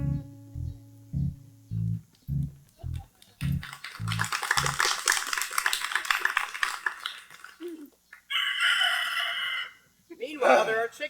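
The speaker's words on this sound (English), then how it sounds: "Meanwhile, there are chickens." Chickens and a rooster: a rhythmic series of loud clucks, then a rooster crows at full volume, followed by further crowing and clucking calls, fairly close.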